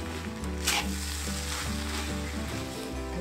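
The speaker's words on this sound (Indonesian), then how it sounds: "Aduk hingga rata." Petai fried rice being stirred in a hot pan gives a steady, close sizzle with a few brighter crackles, set against a constant tonal background.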